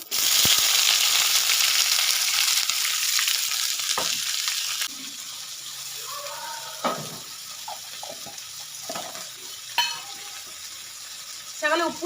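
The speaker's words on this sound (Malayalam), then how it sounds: "ഇതിലോട്ട് കടുക് പൊട്ടി കഴിയുമ്പോഴത്തേക്ക് ഈ സബോളയും ഇഞ്ചിയും വെളുത്തുള്ളിയും കൂടെ ഇട്ട് കൊടുക്കാം" Onion, ginger and garlic go into hot oil with popping mustard seeds. A loud, steady hiss of frying fills the first few seconds, then settles into a quieter sizzle with stirring and occasional knocks.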